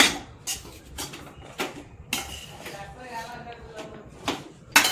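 Rajgira (amaranth) chikki mixture with coarsely crushed peanuts being stirred together in a vessel, giving intermittent spoon clinks and scraping thuds at an uneven pace, close by, with some low talk in the background.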